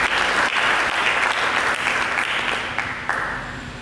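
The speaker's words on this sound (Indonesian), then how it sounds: "Mari kita berikan tepuk tangan bagi Yesus." Sustained applause rises from a church congregation praising Jesus at a worship service, many hands clapping densely together before gradually thinning and fading toward the end.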